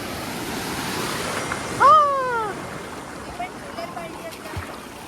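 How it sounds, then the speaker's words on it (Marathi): Sea surf rolls steadily close by in shallow water where swimmers are bathing at Nivati beach, with a bigger wave surging in around midway as a voice cries out over the wash. "मोठा लाट आला"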